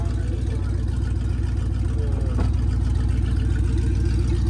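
A Dodge car engine revs hard during a burnout, a loud, continuous low rumbling roar that stays steady throughout.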